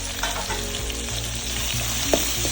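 Tomatoes frying in a pan with turmeric and ginger-garlic paste, giving a continuous close sizzle with soft stirring scrapes and one brief sharper clink near the end.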